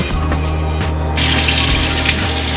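Hot water runs from a kitchen tap into a sink, ready for washing apples and kale. It is a loud, steady gush close by, with the flow strengthening partway through. No talking.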